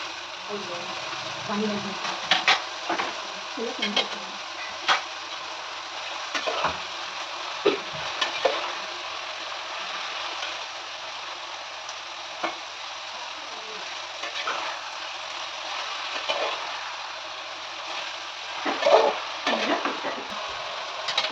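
Chopped tomato and coriander fry for an egg gravy while being stirred: a constant oily sizzle broken by repeated scraping strokes and clinks of the spoon, with a voice talking at times.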